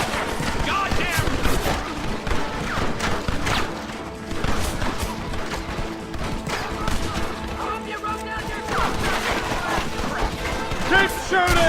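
Rapid gunfire in the Red Dead Redemption video game, a dense run of overlapping shots and sharp cracks that continues throughout, mixed with loud in-game shouting and a busy action-scene backdrop.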